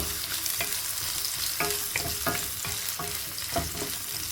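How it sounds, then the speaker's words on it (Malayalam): Sliced onions fry on high flame in a pan, a dense close sizzle broken by regular scraping strokes of a spoon stirring them. "അതിലേക്ക് ഒരു 2 സവാള കട്ട് ചെയ്തത് ഇട്ട് കൊടുക്കുക. എന്നിട്ടിത് മൂപ്പിച്ചെടുക്കാം."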